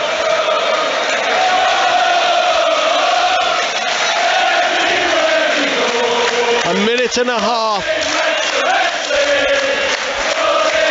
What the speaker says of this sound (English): There are people stood up clapping around me.